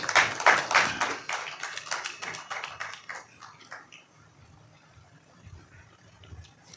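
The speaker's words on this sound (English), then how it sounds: "Let's clap for her as she comes." An audience at a petroleum industry technical workshop claps for a speaker coming forward: a quick cluster of sharp claps that thins out after a few seconds and dies away into scattered taps and room noise.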